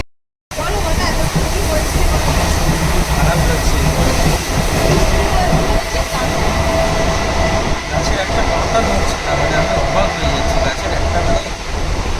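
A commuter train on the Canning or Lakshmikantapur line runs past on the opposite track, a loud, steady rumble with clattering wheels that lasts throughout.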